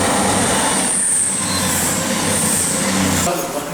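A train passes close by in a quiet zone, a loud sustained rumble of wheels with some metallic squeal and high whine, swelling and easing over a few seconds.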